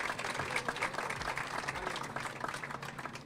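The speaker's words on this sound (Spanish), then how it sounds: "Sí, claro, un aplauso para Noé." Studio audience applauding at a television talk show, a continuous faint patter of clapping.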